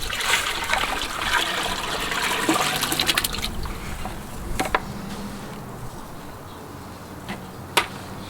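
Quicklime slaking: wet fizzing and bubbling, busy at first and then settling into scattered pops and crackles, heard up close with no voices.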